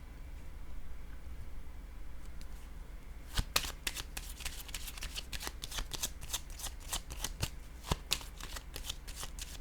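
A deck of cards is shuffled up close, starting faintly and then breaking into a rapid run of crisp riffling snaps that continues to the end.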